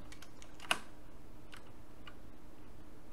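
Typing on a computer keyboard while entering a location search: a few faint, sparse key clicks with one sharper tap, soft and close over a quiet room hiss.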